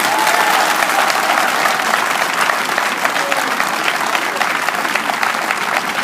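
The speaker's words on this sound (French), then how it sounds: "mais pour faire une ovation à un grand homme d'Afrique, à Nelson Mandela" Sustained, loud applause from a large crowd giving an ovation for Nelson Mandela at a political gathering in Côte d'Ivoire, dense steady clapping throughout with no pauses.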